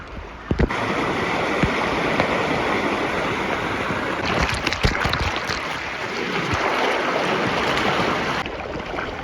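Cyclone floodwater rushes over a small fall close by in Chennai, a broad steady roar like a small cascade, with occasional clicks and knocks over the flow.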